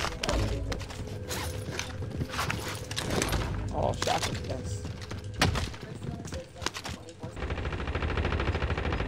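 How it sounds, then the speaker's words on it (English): Bursts of automatic rifle fire crackle through a Call of Duty Warzone match, rapid shots layered with mechanical clatter and game effects, loud and dense throughout. "They're above us, shooting down."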